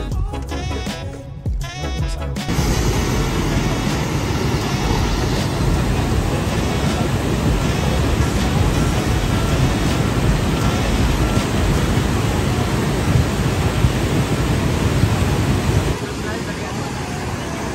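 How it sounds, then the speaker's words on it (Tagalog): Loud, continuous roar of rushing floodwater after rain in Kidapawan, dense and steady, starting after a brief quieter moment and filling the whole scene close to the microphone. "Kasi merong rumaragas ang tubig."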